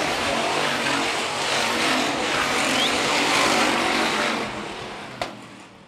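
Hobby stock race cars racing on a dirt oval track, a dense loud engine roar sweeping past that fades toward the end, with a sharp bang near the close.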